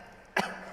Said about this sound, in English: And he does a little cough.